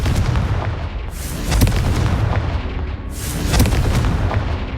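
Confringo explosive fire spell in the video game Hogwarts Legacy, two loud booming blasts about two seconds apart, each with a rumbling low tail over continuous heavy action noise.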